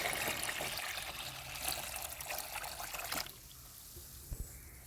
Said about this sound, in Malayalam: ഇപ്പോൾ അരിച്ചെടുത്തത് നമുക്ക് വെള്ളം ഒഴിച്ചൊന്ന് ഡൈല്യൂട്ട് ചെയ്തെടുക്കാം.